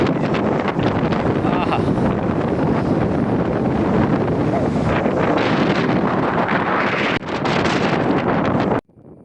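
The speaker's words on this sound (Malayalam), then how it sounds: "ഭയങ്കര കാറ്റ് മഴ പെയ്യാനാണ് കാറ്റിന് വേണ്ടിയിട്ടുള്ള കാറ്റാണ്" Strong, loud wind ahead of rain on an open hilltop at Chakki Para, roaring and buffeting the microphone continuously before cutting off abruptly near the end.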